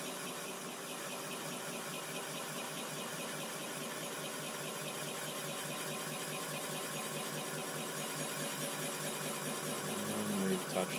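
A machine bores the intake valve seat of a Ducati 996 cylinder head to fit bronze seats, producing a continuous steady whine and cutting drone at even level throughout, with a faint knock near the end.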